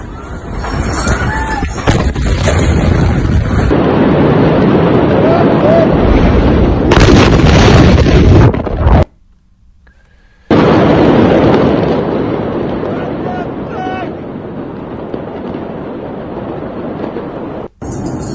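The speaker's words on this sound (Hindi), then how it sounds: "तो इस धमाके की आवाज" Beirut explosion blast in Lebanon: a loud, rumbling roar of the blast and its aftermath fills the first nine seconds, cuts out briefly, then returns and fades into a long, diminishing rumble.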